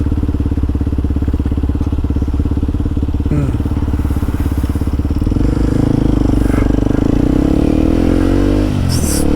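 A Harley-Davidson motorcycle being ridden, its engine a loud, steady low rumble throughout, swelling slightly as it revs partway through, with some clatter near the end.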